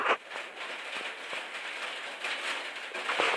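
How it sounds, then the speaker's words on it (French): Faint, dense pattering of small hailstones in a light hail shower striking a surface, a soft continuous rattle with scattered sharper ticks. "Désolé pour le bruit, il y a une petite pluie de grêle."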